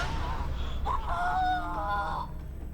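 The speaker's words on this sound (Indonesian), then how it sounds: "Teriakan apa itu?" A distant, drawn-out scream with a wavering pitch rises and holds for about a second and a half in an eerie scene, set over a low rumbling background before it fades.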